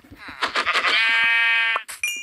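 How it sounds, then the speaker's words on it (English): Sheep in a modded Minecraft game bleating, a loud nearby sequence of short wavering bleats leading into one long drawn-out bleat, followed by a brief chime. "A sheep."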